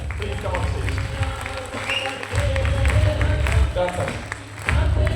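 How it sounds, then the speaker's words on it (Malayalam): Applause rolls through the crowd in Rajiv Gandhi Auditorium, Irinjalakuda, steady dense clapping that dips briefly and swells again, with a voice over a microphone and crowd murmur underneath. "മാഡത്തിന് നല്ലൊരു കയ്യടി"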